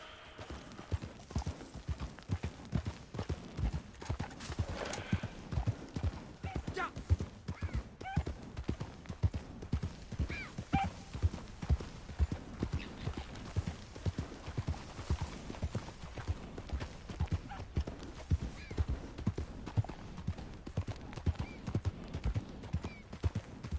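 Horse hooves clip-clopping steadily in the Red Dead Online game as a riderless horse moves along, a continuous even rhythm of moderate, fairly close hoofbeats with no talking over it.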